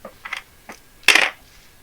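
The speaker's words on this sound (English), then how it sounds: "Thank you, dice, for not rolling as high as you used to." Dice clattering on a table during a Pathfinder tabletop game, a few light taps followed by one louder, brief rattling tumble that settles quickly, heard alone with no talk.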